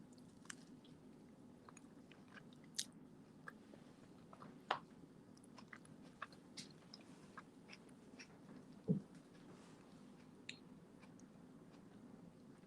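Someone is chewing raw vegan pizza with mushrooms and a salsa of pimento and Trinidadian seasoning peppers, giving faint, close mouth sounds with scattered small crunchy bites and clicks over a quiet background.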